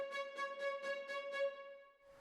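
A sustained MIDI string note using a single velocity layer repeats in six even, identical pulses, each with the same loudness and a mechanical feel, then fades.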